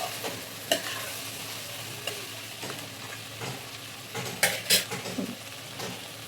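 Okra stir-fried in an open kadhai gives a soft, steady sizzle, broken by scattered scrapes and clinks of a spatula against the pan at close range, with no voices.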